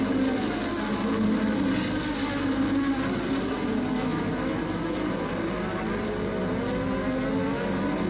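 Formula 1 cars from the 1984 Dallas Grand Prix scream past in a continuous high-revving engine roar, several cars layered together, steady and loud throughout with no talk.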